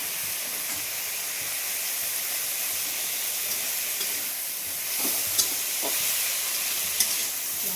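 Besan (gram flour) fritters fry in a pan with chilli, turmeric and salt, giving a steady bright sizzle and hiss throughout, broken by a few sharp pops and crackles near the end.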